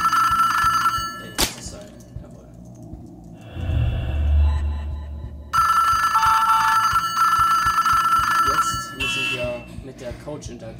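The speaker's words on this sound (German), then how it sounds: "wo das Telefon vorhin geklingelt hat" A telephone rings in a horror video game, its repeated electronic trill running through most of the stretch with brief gaps, loud and close, over a low rumbling game soundscape.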